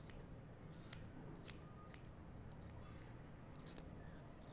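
Small scissors make faint, crisp snips while trimming a fly at a fly-tying bench, with a handful of quick cuts spaced unevenly over a quiet background.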